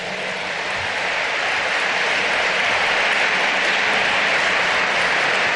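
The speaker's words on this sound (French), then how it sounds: "Des applaudissements pour Cheikh." Sustained applause from a large audience at an annual gathering of Muslims in France, a dense, even wash of clapping that holds steady throughout.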